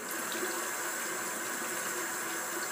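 Warm water runs steadily from a tap into a sink, a continuous close hiss and splash with no talking.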